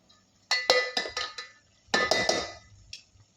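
A spoon scrapes and clinks against a pot as cooked rice is layered in for homemade veg biryani, two short bursts of metallic knocks and scrapes, close and fairly quiet.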